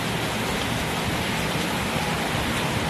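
Rain falls steadily, making a dense, even hiss of drops on surfaces that stays constant and fairly loud throughout.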